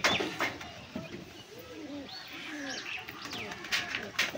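Pigeons cooing in a loft during a stand show of a collection, several soft rolling coos repeating through the moment over a noisy background, with someone talking nearby.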